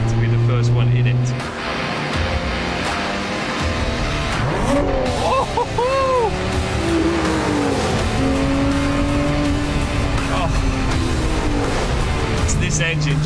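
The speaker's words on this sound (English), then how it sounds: "This engine just roars." A Lotus Emira sports car's engine roars loudly while driving, revving up and down through gear changes with tire noise, close and sustained as someone talks over it.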